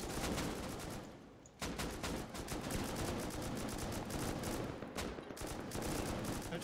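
Rapid bursts of automatic gunfire crackle in the survival game Rust during a raid, a nearly continuous stream of shots with a short pause, then more volleys and single cracks.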